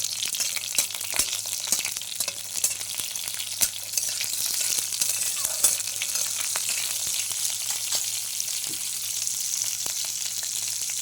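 Green chillies and black mustard seeds fry in hot oil with a steady bright sizzle, dotted with crackling pops and occasional scrapes of stirring throughout.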